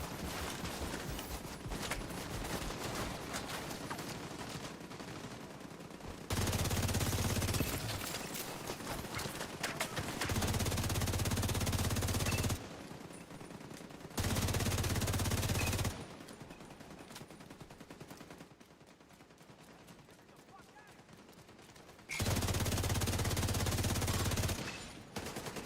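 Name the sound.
turrets firing in video game The Division 2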